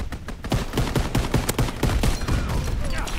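Enemy air strike gunfire in Call of Duty WWII video game, dense bursts of rapid shots and booming impacts rattling continuously, loud and close across the whole stretch.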